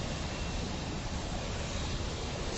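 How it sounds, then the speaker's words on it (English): Wind roars across the microphone outdoors on New York's Upper East Side in a steady, loud, broadband rush with no voices. "Ooh, windy."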